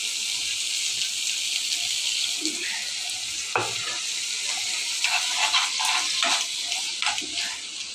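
Water is poured into a pot of dried fish curry cooking on the stove, producing a steady hiss and sizzle with occasional stirring clatter close by.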